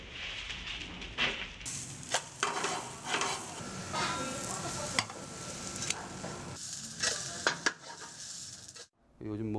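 Buckwheat pancake batter (maemiljeon) sizzles and fries in a pan at a buckwheat specialty restaurant in Paju, a steady close crackle broken by several scraping stirs and utensil knocks against the pan.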